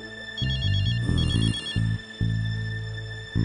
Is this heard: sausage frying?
no